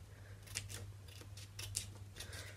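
Scissors cutting paper for an advent calendar craft give several quiet, crisp snips in a loose rhythm, close by in a hushed room.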